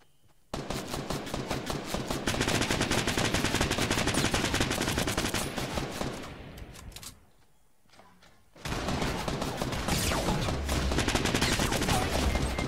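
Gunfire in the video game Fortnite: dense rapid bursts of shots, a short lull, then another sustained volley, loud and close.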